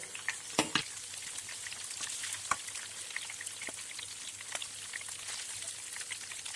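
Vegetable bullet snacks fry in a pan, a soft continuous sizzle with sparse pops and crackles at moderate distance.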